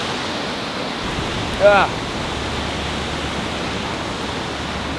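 A river waterfall rushes in a steady, loud, full roar close by, where fly fishing is going on. A person's brief exclamation rises over it for a moment.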